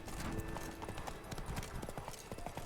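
A horse's hooves clip-clop at a steady trotting rhythm in The Witcher 3 video game, up close and fairly quiet, with a brief hint of a whinny and no one talking over it.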